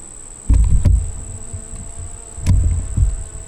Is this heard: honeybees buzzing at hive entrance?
yes